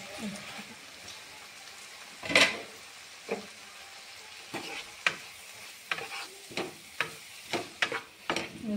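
Spiced masala for kadai chicken being stirred and sautéed in a pan with a little water, a steady sizzle under a run of sharp scraping and stirring strokes, close and moderately loud, with no voices.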